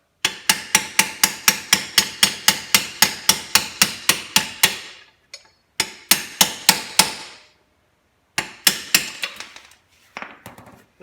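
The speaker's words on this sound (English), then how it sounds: "So I'm just going to drift this out." A hammer strikes a steel drift to drive out a worn bolt from a Chinese quad's axle: loud, close, evenly spaced metallic blows in three bursts separated by brief pauses.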